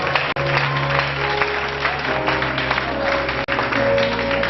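A congregation at an international Bible school event claps for a fellow member, steady and fairly loud applause that runs on without a break and has no speech over it.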